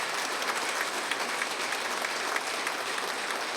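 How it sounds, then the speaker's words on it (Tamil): Sustained audience applause at a student honouring ceremony, dense and steady clapping from a sizeable crowd filling the whole stretch without pause. "உண்மையிலேயே அதுக்கு ஒரு கைத்தட்டல் கொடுங்க"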